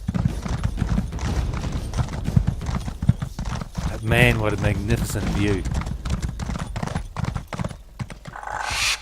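Horse hooves clip-clopping in a steady rapid rhythm while riding in the video game ESO, loud and close, with a horse whinny midway and someone talking over it.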